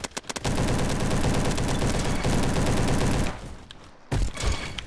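Sustained rapid bursts from an SM-03 submachine gun in the Roblox shooter Bad Business, loud and dense for about three seconds, then a short pause before a few more shots.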